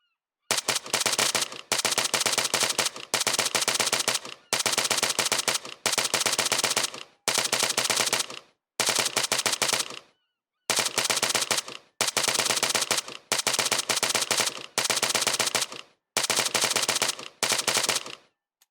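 Sustained automatic gunfire from a weapon in Arma 3 Altis Life comes in long, loud, rapid bursts about a second or two each, separated by short pauses, with no talking over it.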